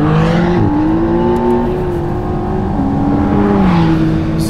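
A rear-drive McLaren launches hard on track with boost built against the brake, its engine roaring loudly and steadily as it accelerates, with rising harmonics and brief shift dips across the run.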